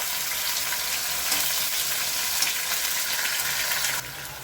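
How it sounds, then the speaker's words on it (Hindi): Ground onion paste sizzles and crackles loudly in hot oil with a bay leaf in a pan for an Indian jackfruit seed curry, a steady close frying hiss that eases slightly at the end. "ये अब मैं डाल रही हूँ एक तेज पत्ता और ये डाल रही हूँ ग्राइंड किया हुआ प्याज है"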